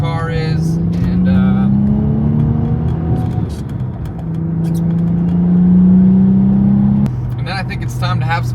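A Stage 3 Audi B5 S4 cruising on the road, its engine a steady loud drone with rising and falling pitch as it accelerates and shifts, heard from inside with wind and road noise throughout.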